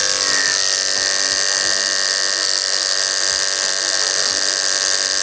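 An electric hair clipper runs without a break, giving off a loud, steady buzzing whine with a high metallic edge and no voices.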